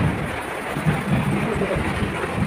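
Monsoon rain with thunder around a home where water leaks into the kitchen: a steady, dense hiss of rainfall over soft low rumbles that swell and fade, with no voices.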